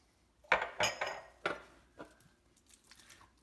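Glass canning jars being washed by hand in a kitchen sink knock and clink together in a string of sharp, close clatters that thin out into a few lighter taps.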